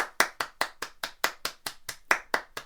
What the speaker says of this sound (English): Now can you clap your hands?